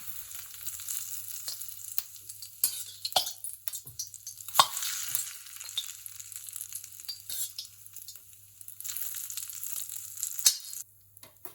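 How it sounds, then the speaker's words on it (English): Hot oil poured into a bowl of spices crackles and sizzles in bursts, with sharp pops and hissing that rise and fall. "we pour the hot oil into the bowl"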